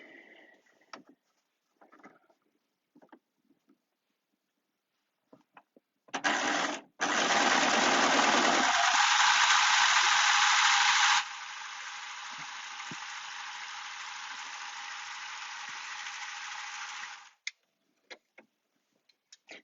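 An overlocker sews a flat lock stitch in one quick run: a loud, steady mechanical whir that starts abruptly, then settles into a slightly quieter hum for about eleven seconds before stopping, with faint rustles and clicks around it.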